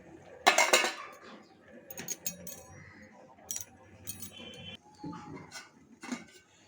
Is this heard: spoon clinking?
yes